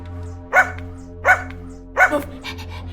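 Three sharp barks from a dog ring out about a second apart, loud and close, followed by a fainter fourth yip over a low steady hum.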